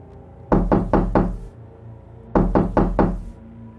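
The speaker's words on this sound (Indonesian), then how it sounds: "mendengar suara ketukan yang keras dari pintu depan rumahnya" Loud knocking on a house's front door: two sets of four heavy, evenly spaced knocks separated by a short pause, close and sharp with nothing else over them.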